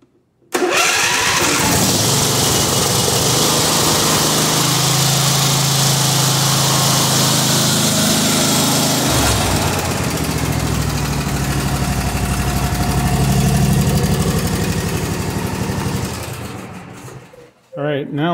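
A Husqvarna riding mower engine, choked after failing to start, cranks and catches, then runs loud and steady at idle for most of the stretch before shutting off near the end.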